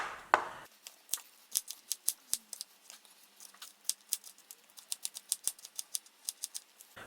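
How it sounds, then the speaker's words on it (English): A kitchen knife slices onions on a chopping board, a crisp series of quick, sharp taps in an uneven rhythm, close and fairly quiet, with no one talking. "So first we slice the onions"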